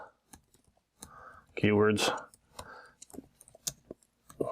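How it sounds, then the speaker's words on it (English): Fingers tap on a computer keyboard in short scattered clicks and bursts, with a person talking over the middle of the typing. "I gotta type in."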